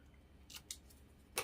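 Scissors snip paper for a junk journal in a few quick, crisp cuts, two close together and one sharper at the end, faint and close against a quiet room.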